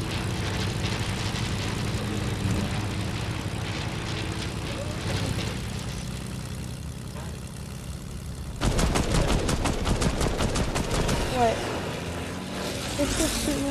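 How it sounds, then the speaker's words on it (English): Rapid gunfire in Fortnite aimed at a plane, loud bursts of shots mixed with game noise and engine drone, with players talking over it throughout. "It's just shooting in that plane."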